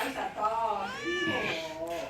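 A cat meows several times in drawn-out, rising and falling cries, close and clear, with a person's voice mixed in.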